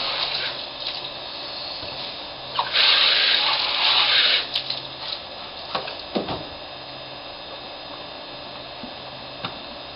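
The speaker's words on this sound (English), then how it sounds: "Rinse out the inside of both halves of the mold." Tap water runs briefly and splashes as the insides of both halves of a globe-shaped centerpiece mold are rinsed, a short burst over a steady background hum with some small handling knocks afterward.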